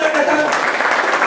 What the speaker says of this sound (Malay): Bagi tepukan pada anda semua ya, yang semangat datang.